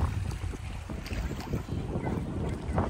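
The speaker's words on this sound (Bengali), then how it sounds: "কি সুন্দর হাওয়া না, অনেক ভালো লাগছে, ঠান্ডা হাওয়া।" Wind buffeting the microphone in a continuous low rumble and gusts, with open water faintly beneath.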